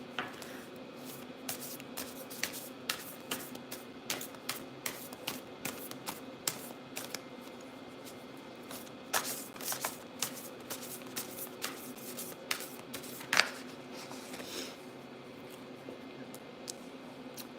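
Slippery oracle cards shuffled by hand in quick, soft, repeated riffles and slides, close and quiet, with no speech.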